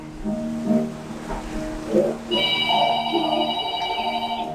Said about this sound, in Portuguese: Tem telefone aí, mãe?